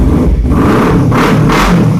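A green 2016 Kawasaki Ninja motorcycle with about 37,000 km on it, idling and revving close by: a loud, continuous engine roar with brief surges in pitch.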